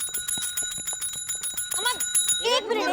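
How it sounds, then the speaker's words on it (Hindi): A desk bell at a police station in an Indian TV comedy is struck repeatedly in quick, bright rings, with people talking over and after the ringing. "थाने का घंटी है वो, मंदिर का घंटा नहीं है कि आप बार बार बजाएंगी"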